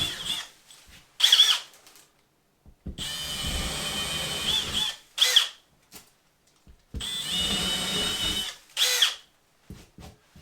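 A power drill bores into a wall to mount a Samsung Frame TV bracket, running in several loud bursts of a few seconds each, separated by silence and short clicks.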